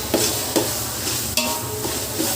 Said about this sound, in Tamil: தக்காளி சேர்த்துட்டு நல்லா வதக்கிக்கலாம்